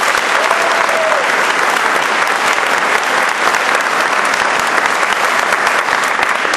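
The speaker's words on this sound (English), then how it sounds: "A round of applause, please, for all retired Command Chiefs in attendance." Steady, loud applause from an audience at a military retirement ceremony, dense clapping sustained throughout without pause.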